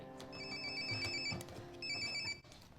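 A telephone rings close by in two electronic ringtone bursts of repeated warbling tones, separated by a short pause, before the call is picked up.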